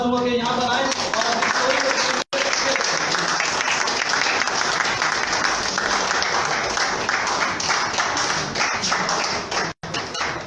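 An audience in an office presentation gathering applauds steadily for about ten seconds, a dense, loud wash of clapping hands that barely pauses, welcoming a presenter to the front.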